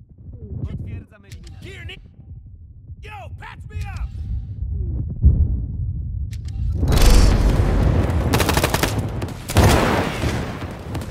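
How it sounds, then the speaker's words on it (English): A grenade blast followed by heavy, sustained gunfire in the World War 3 video game, booming and crackling loudly after a quieter stretch of scattered game sounds and shouting voices. "Grenade going hot!"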